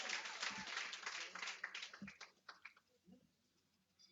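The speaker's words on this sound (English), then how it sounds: "Let us give her a round of applause again." An audience applauds for the vice president at a public gathering, a burst of clapping that fades over a few seconds into scattered claps and a low murmur.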